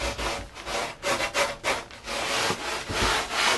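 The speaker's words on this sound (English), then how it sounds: "Now we're going to wrap the sandpaper right around the rail" Sandpaper wrapped around a wooden rail rubs back and forth in quick repeated strokes, a close, coarse scratchy rasp with no talk over it.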